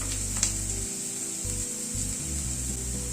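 Diced vegetables sauté briefly in a pan for a sago upma, giving a soft, steady sizzle with faint scraping of a spatula and a low hum beneath, no voices.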